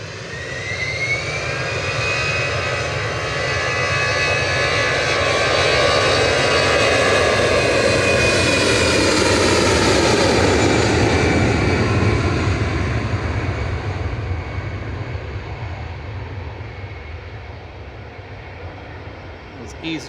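An EasyJet Airbus A320-200 jet bound for Berlin at Manchester Airport, a loud engine roar swelling to a peak with a sweeping whine, then fading away as it passes.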